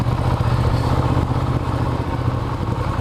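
A Ducati Diavel motorcycle engine drones steadily and loudly throughout, running very hot, a low rumbling hum with some wind noise and no talking.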